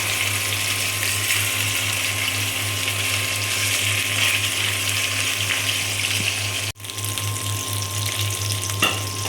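Rohu fish pieces fry in hot oil, a loud, dense, continuous sizzle that holds nearly steady, with one brief dip partway through before the sizzling resumes just as strongly.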